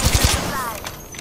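Gunfire in Apex Legends: a quick burst of rapid, loud automatic shots at the start, then a brief ringing tail and fading clatter.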